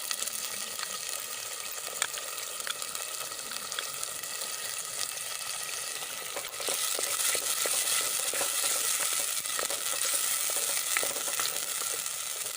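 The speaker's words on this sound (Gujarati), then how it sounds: "આપણી ડુંગળી અને ટમેટાની ગ્રેવી થોડી સંતળાઈ જાય" Onion and tomato gravy for cashew curry sautés in oil in a pan, a steady close sizzle with faint crackles and occasional stirring taps, growing slightly louder midway, with no talk.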